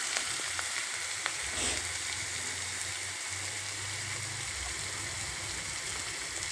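Onions sizzling steadily in hot oil in a pan while cooking upma, a continuous close frying hiss with faint low hum underneath, no talk.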